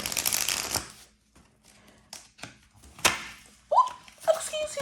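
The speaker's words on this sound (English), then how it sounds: "I need one more shuffle because that was not it either." A deck of tarot cards is shuffled in a quick riffling burst, then paused, with scattered taps and soft thuds as cards are handled and set down, close and fairly quiet, with a brief murmur from a voice near the end.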